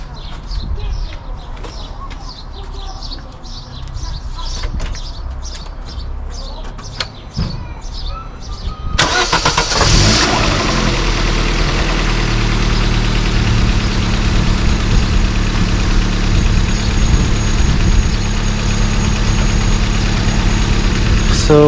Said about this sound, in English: Let's go for engine start.